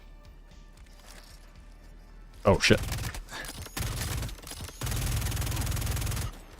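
A big explosion in the Star Citizen video game bursts out in a sharp, loud blast followed by crackling, rolling booms and a sustained roar, with a brief muttered voice just before it.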